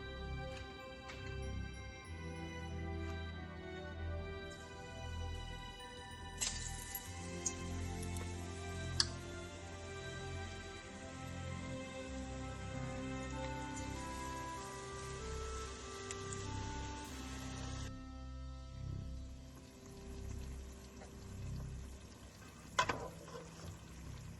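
Flour-coated mushrooms frying in hot oil, a steady low sizzle with faint ticking and a few small clicks from tongs, alongside soft background music.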